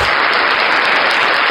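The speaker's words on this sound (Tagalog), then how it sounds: "Palakpakan pa rin natin itong si Sir." An audience claps loudly and continuously, a dense wash of applause filling the room, steady for the whole moment with no voices standing out.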